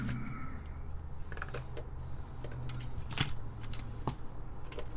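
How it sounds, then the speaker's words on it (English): Glasses being shuffled around on a workbench during assembly of an Altair-Duino computer kit, heard as light clinks and taps scattered through the clip over a steady low hum. "Sorry, shuffling glasses around."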